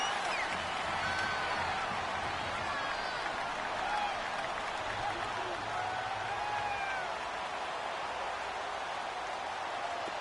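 Game-generated crowd noise fills a PS4 football video game broadcast, a steady dense wash of cheering and applause with scattered whistles and shouts, continuous and fairly loud throughout.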